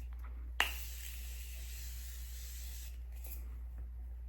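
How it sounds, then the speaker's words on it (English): A makeup setting mist sprays onto a face in one sharp burst followed by a long, steady hiss of fine spray lasting a couple of seconds, with a fainter second spritz afterward, all close and alone without talking. "I like to kind of mist in between layers so that my makeup just really melts in."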